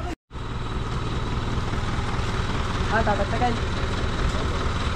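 Motorized tricycles idle close by with a steady, rumbling engine drone after a brief cut at the start, while voices speak briefly over it.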